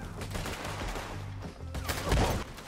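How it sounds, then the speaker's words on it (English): Rapid submachine gun bursts in the video game Red Dead Redemption 2 crack loudly and continuously, with overlapping shots forming a dense fusillade that swells near the end. "What kind of gun is that? Is that a submachine gun?"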